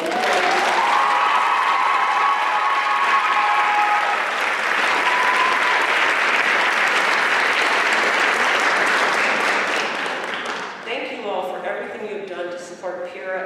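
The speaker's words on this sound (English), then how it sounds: "a big round of applause here" A large audience at the Wellesley College Scholar-Athlete Awards Celebration applauds loudly and steadily for a long stretch, with a voice speaking over the clapping at the start and talk returning as the applause dies down.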